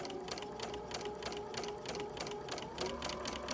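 A sewing machine runs a seam in a steady, rapid rhythm of needle strokes, close and moderately quiet, with no talking.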